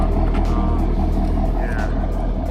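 A Chevrolet Corvette C7 with upgraded exhausts runs with a loud, continuous low rumble, close by and steady throughout.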